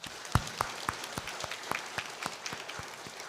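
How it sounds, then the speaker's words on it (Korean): Sparse, fairly quiet clapping from a church congregation during a Sunday service, individual claps standing out in an uneven rhythm rather than a full roar. "박수 부탁드립니다."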